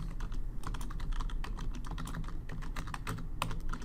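Rapid typing on a computer keyboard, with a continuous run of close, crisp key clicks at an even, busy pace and no talk.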